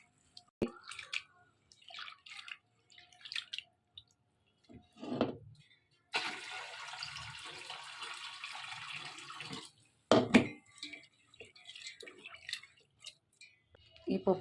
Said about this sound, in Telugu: ఇప్పుడు ఈ పప్పు అంతా కడగాలి.